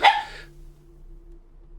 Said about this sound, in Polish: Wybaczcie, to mój piesek szczeka.